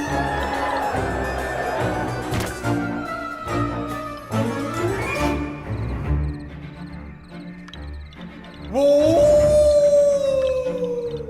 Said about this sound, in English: The howls grew closer and closer.